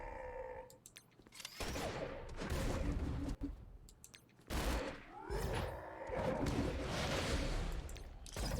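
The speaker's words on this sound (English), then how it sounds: "Then I'm just going to shoot Cap with my Red Skull." Rapid shooting and impacts as Red Skull fires on Captain America in a Marvel video game, dense loud bursts of gunfire with brief gaps and game effects.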